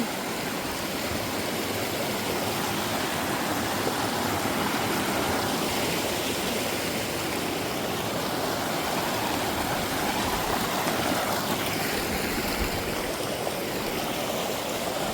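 A rushing river in a Nepali village flows steadily, a constant, full wash of water with no pauses.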